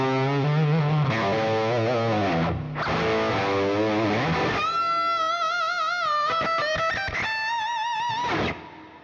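Crunchy distorted electric guitar played through a Quad Cortex with a longer, subtler reverb, sustained chords giving way to ringing single notes that trail off in the reverb tail.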